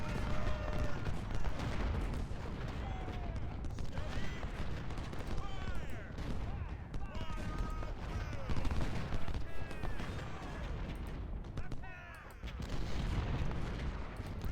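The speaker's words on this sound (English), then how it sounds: "He must have a ton of supplies to be able to keep these guns firing that long." Artillery batteries fire repeatedly in the UGCW Civil War strategy game, with booming cannon volleys and crackling musketry rolling continuously over a busy battlefield din.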